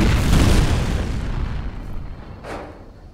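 A grenade detonates in the shooter game F.E.A.R. Extraction Point: a loud, heavy boom opens and rolls into a long rumbling decay, with a brief sharp burst shortly after.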